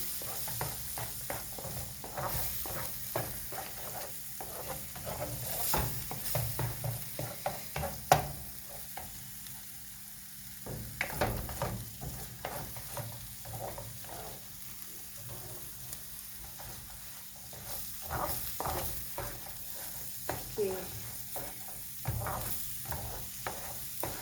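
Scrambled egg sizzling and being stirred in a pan with a little olive oil for an egg toast sandwich, a soft frying hiss broken by irregular scraping and clinking of the utensil, close by and without speech.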